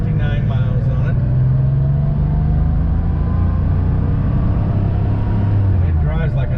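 A 1985 Porsche 911 Carrera engine hums and drones steadily from inside the cabin while driving, pitch gently shifting with speed, with brief voices near the start and end.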